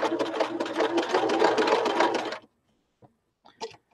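A sewing machine runs steadily stitching silk fabric for about two and a half seconds, a loud continuous whirring close by, then stops, leaving a few faint clicks and handling noises.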